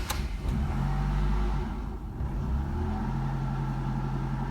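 A car engine runs at a steady, close idle with a low continuous hum and faint rhythmic pulsing, after a brief sharp sound at the start.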